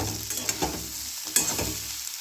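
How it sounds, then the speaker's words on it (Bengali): Potato and cauliflower pieces fry in a pan with a continuous close sizzle, punctuated by a few sharp stirring clinks and scrapes of the spatula. "কপি আলু ভাজার রেসিপিটা"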